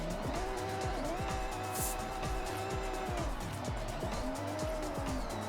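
A car drifting in the video game Forza Horizon 6, its engine holding a loud, steady rev while tires screech and squeal continuously through the slide, with no talk.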